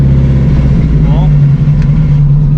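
A Subaru STI with a stock transmission, tuned to around 1100 horsepower, runs at a steady, loud idle close by, its low drone constant throughout with a brief higher whine partway.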